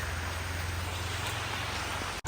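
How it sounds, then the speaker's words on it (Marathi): Steady, heavy rain pouring down nearby at Shahu Palace, Kolhapur, a dense unbroken hiss with a low rumble underneath, cutting off abruptly at the end. "पाऊस खूप पडतो आहे"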